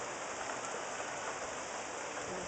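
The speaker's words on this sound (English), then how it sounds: "It's been raining non-stop." Heavy rain falls steadily beside a flooded creek during a July storm, a dense, continuous hiss with no gaps and no voices.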